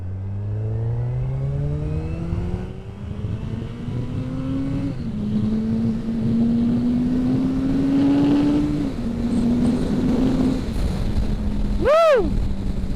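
A 2023 Suzuki Hayabusa sport motorcycle accelerates hard. Its engine climbs loudly through several rising gear pulls with brief dips at each shift, steady and close, ending in a short sharp whine.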